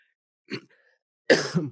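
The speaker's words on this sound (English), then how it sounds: "coughing a little bit" A short throat-clearing cough, then a louder, harsher cough a moment later, alone in a quiet room.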